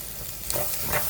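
Onions sautéing in a pan with turmeric powder for a Tamil-style fish curry, a steady close sizzle with a couple of soft stirring scrapes, no talking.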